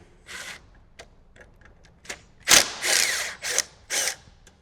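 A power tool unscrews T40 bolts holding the gas tank on a 2014+ Harley-Davidson Touring motorcycle, giving several short whirring bursts that get louder and longer toward the end, with no talking.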